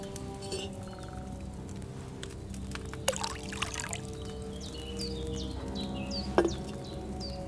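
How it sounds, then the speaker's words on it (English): Wine is poured from a pitcher into a cauldron in Kingdom Come Deliverance II, a steady liquid trickle with small splashes over a low ambient hum and faint background chirps. "what did you pour in there? Wine, of course."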